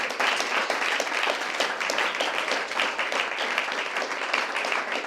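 A church congregation applauds with dense, steady clapping that carries on evenly for several seconds and fills the room.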